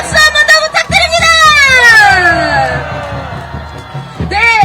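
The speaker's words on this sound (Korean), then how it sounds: "박수 한 번 더" A rally crowd opposing the impeachment cheers and shouts loudly, with a long, sliding, whistle-like tone rising over the noise for several seconds. Voices carry through, and the cheering picks up again at the end.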